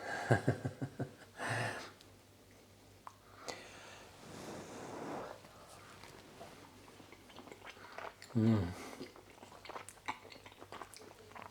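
Someone eats a forkful of pasta with zucchini and potatoes, with close, soft, wet chewing and a few louder bites and mouth sounds. No one speaks.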